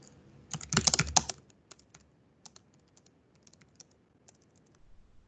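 A quick burst of rapid computer keyboard typing up close, followed by scattered individual key clicks trailing off in a quiet room.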